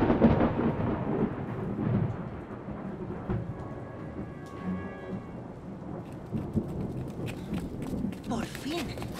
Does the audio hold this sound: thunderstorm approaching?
yes